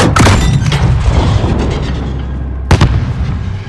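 A heavy explosion in the Call of Duty: Modern Warfare (2022) campaign fires on a night field lit by illumination flares. A loud initial blast rolls into a long rumbling tail, then a second sharp boom lands near the end.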